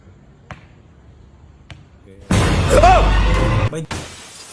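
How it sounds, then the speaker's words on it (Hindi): A camera drops and hits the floor during a late-night horror-style stream, a sudden loud clatter and crash with a brief shattering tone, following a quiet stretch with a few soft knocks. "भाई मेरा कैमरा गिर गया यार, टूट जाएगा भाई"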